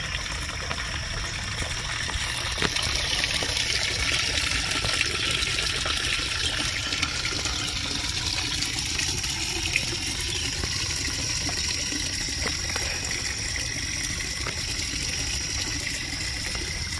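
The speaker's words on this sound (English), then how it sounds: "Here's another water feature." Water runs steadily through a feature in a Japanese garden, a continuous soft splashing and trickling wash that stays even throughout, with no voices.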